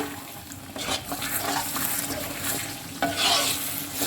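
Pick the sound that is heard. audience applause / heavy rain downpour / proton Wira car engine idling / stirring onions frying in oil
stirring onions frying in oil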